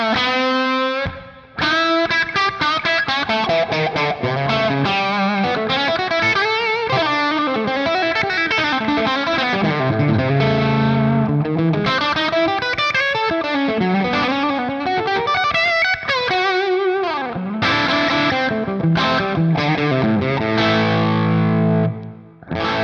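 Electric guitar through a Dophix Persio effects pedal, playing a driven, lively melodic passage with bends and sustained notes, loud and up close with no voices.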